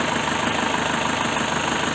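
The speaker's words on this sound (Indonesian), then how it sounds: "sudah terdengar suara mesin mobil Panther ini, terasa berisik, terasa kasar" Isuzu Panther LS 2001 diesel engine running steadily up close, a loud, rough, noisy clatter that stays constant throughout with no talk.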